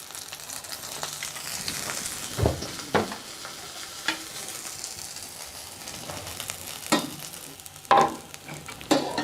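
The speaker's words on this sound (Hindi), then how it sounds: "अब हम थोड़ा सा ऑयल और डाल लेते हैं ताकि जो ब्रेड है वो फ्राई पैन के साथ ना लग जाए" Bread frying in oil in a frying pan for a potato sandwich, a steady close sizzle with a few sharper crackles and spatters, heard alone without talk.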